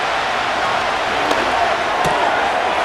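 Stadium crowd roaring in the Madden NFL 25 football video game during a Raiders–Texans matchup, a continuous, loud broadband cheer with a couple of brief sharp accents rising out of it.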